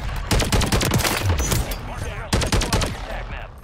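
Automatic gunfire in the Call of Duty video game on Rebirth Island, rapid loud bursts in two volleys separated by a short pause, with occasional game noise between them.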